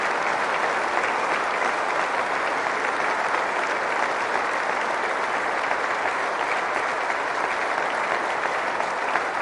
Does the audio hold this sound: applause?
yes